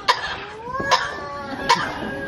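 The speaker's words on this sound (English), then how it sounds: "A few good coughs, a bit of a treat." An animal coughs three times, evenly spaced and close, with each harsh cough trailing into a short tonal squeak.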